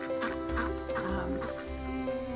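Ducks quacking at a farm in Lebanon, Connecticut, with a few close quacks and honks repeating over a continuous background hum.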